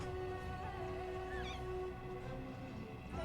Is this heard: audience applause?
no